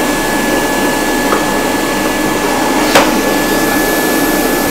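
An Aquamate carpet shampooer runs steadily to dry out its hose and pipe, a loud continuous motor whine and rushing airflow with no pauses, plus a brief clunk near the end.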